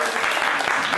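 Studio audience applause at a French dating show after a couple is declared a match: a brief, steady, dense wash of clapping with a faint voice mixed in.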